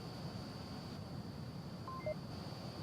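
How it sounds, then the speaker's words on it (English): A couple of short, thin electronic warning beeps sound in quick succession over a low, steady background hum, in a VR game match. "Got the warning beeps."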